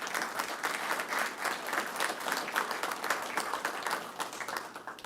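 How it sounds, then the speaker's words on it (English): Attendees at a city council meeting give a round of applause: many hands clap in a lively, irregular patter that swells and fades slightly but stays strong throughout. "Give yourselves a round of applause on that one."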